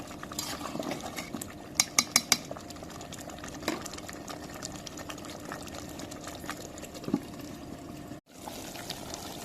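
A spoon scrapes and stirs beef rezala in a pot, soft continuous cooking noise with a few sharper metallic clinks and taps, close and fairly quiet, with no speech.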